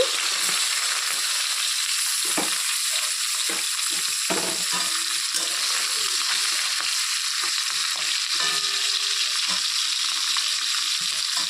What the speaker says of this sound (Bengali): তেল গরম হয়ে গেছে এখন আমি এক এক করে মাছগুলোকে দিয়ে দিচ্ছি